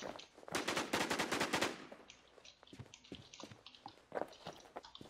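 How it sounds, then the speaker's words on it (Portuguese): Rapid bursts of automatic gunfire in the video game Infestation The New Z during a PvP fight in Clearview, a dense volley for about two seconds followed by scattered, sharper single shots and clatter. "Teve um tiroteio pra lá também, ó."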